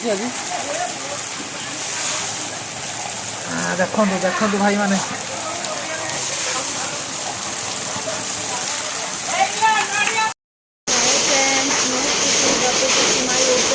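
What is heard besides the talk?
heavy rain with hail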